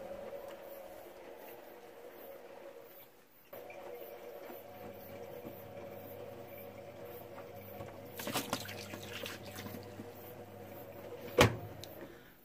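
A washing machine pump hums steadily as it draws in water, a low continuous drone that cuts out briefly then resumes, with a few faint clatters and a sharp click near the end.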